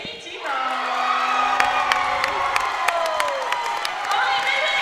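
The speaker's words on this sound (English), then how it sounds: "So let's give a big round of applause for Jamie Tebow." A crowd at a women's volleyball championship game claps and cheers with whoops and shouts, loud and continuous, while tonal squeals and a voice sound over the noise.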